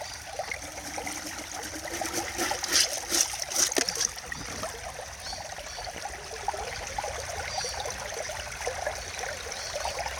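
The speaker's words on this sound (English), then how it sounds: "because I don't have much water flow, it's sort of clogging up at the end here" Water trickles and streams steadily through clay laid on a mat, a continuous close wet flow with a few brighter splashy bursts partway through.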